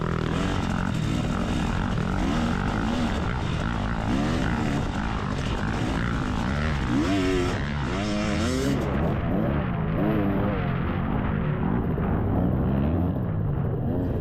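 Dirt bike engine droning steadily and loudly throughout a cross-country race at Whitetail Retreat, with revving swells as the rider fights through sand, close and continuous.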